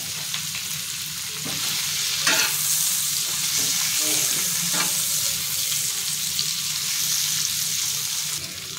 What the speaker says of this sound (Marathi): आता ह्याच्यामध्ये मी बेबीकॉर्न आणि मशरूम टाकून ते फ्राय करून घेते 2 मिनिटं